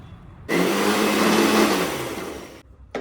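Mixer grinder whirring through coriander powder, turmeric and garam masala, a loud steady motor drone lasting about two seconds before cutting off abruptly.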